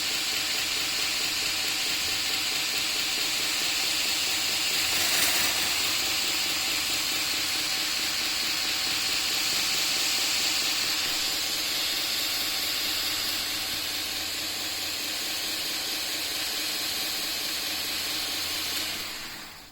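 A Kadrmas Kreations SRG 1.5 belt grinder runs steadily while its tracking wheel is turned, giving a constant loud hissing whir of the moving belt with a brief swell partway through and no break.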